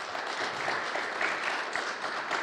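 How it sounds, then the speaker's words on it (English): An audience claps for a speaker after a talk on the European Commission's open-source search engine, a steady, moderately distant round of applause lasting a few seconds. "let's go for a round of applause for our speaker"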